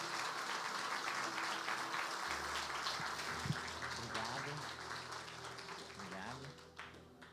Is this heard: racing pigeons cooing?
no